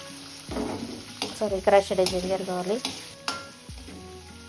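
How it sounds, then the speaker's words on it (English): Onions with crushed ginger and garlic sizzle in oil and butter in a kadai, broken by spoon scrapes and stirring knocks, with a tonal hum and faint background noise; close and fairly quiet. "Then you add onions and chopped crushed ginger garlic."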